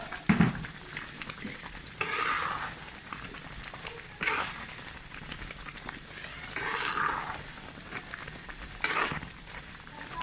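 Coconut, almonds and vermicelli added to semolina halwa in a hot pan, with repeated close stirring scrapes and a soft frying sizzle in several bursts, no talk.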